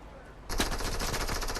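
Rapid automatic gunfire in the Fortnite video game: a sudden, loud, sustained burst of closely spaced shots that starts abruptly after a brief lull and continues steadily to the end.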